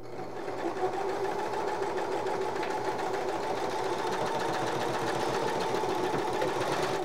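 A serger sewing machine gathers fabric into ruffles, running in a fast, even mechanical chatter at close range without pause for several seconds.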